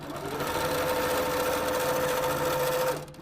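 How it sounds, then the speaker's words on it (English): A sewing machine stitches pieces of an American flag quilt block together with a quarter-inch seam, giving a steady, close mechanical whir for about three seconds before it slows and stops. "we're gonna sew everything together using a 1/4 inch seam allowance"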